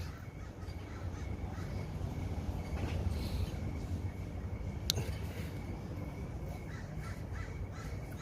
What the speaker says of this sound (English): Look, you can hear my crows right now.